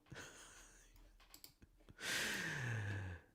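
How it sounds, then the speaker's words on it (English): An online name-picker wheel spins with a soft run of clicks that give way to a louder whooshing spin, with no talk over it. "We're going to spin the wheel."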